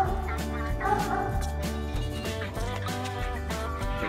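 Several dogs bark at 2 a.m. on a street in Lima, Peru, while being walked: repeated, fairly close yelps and woofs in an irregular rhythm over steady background noise.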